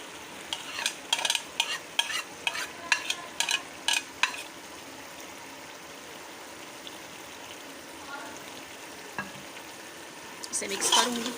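Half-boiled chana dal, cooked with salt and a pinch of turmeric, stirred into beef in a pot for dal gosht: a run of scraping, sizzling stirs in the first few seconds, then quieter bubbling and a last burst of stirring at the end.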